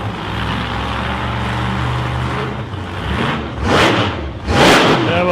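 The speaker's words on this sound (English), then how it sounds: "New engine in this car." A serious race car fitted with a new engine runs loudly and up close, its dense engine roar holding steady and then surging in two rising revs.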